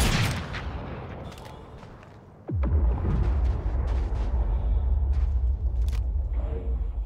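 Bombs detonate in an online multiplayer video game: quieter gunfire first, then a sudden heavy explosion followed by a loud, continuous roaring rumble with scattered bangs.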